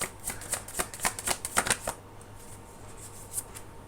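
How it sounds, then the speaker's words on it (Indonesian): Tarot cards being shuffled by hand in a quick flurry of crisp riffling snaps, which fade to quiet handling after about two seconds. "Kita shuffle dulu kartunya ini ya"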